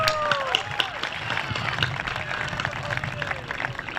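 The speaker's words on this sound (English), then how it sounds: "Miss Ferris deserves a really, really good round of applause" An audience at a high school honor society and scholarship night breaks into sustained applause, a dense wash of clapping, with voices heard among the crowd.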